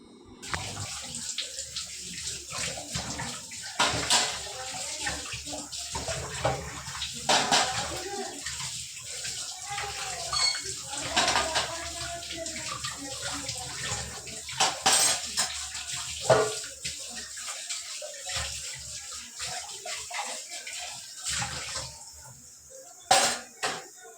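Meat being washed in a pot of water before going into a pressure cooker splashes and sloshes in irregular bursts, with running tap water and clinks of a vessel, close by under occasional background talk.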